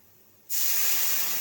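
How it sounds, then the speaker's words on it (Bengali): Lentils mixed with water and turmeric poured into a hot pan of frying onions, bursting into a loud, steady hiss after a brief quiet moment, close and continuous. "ঢেলে দিলাম ডাল।"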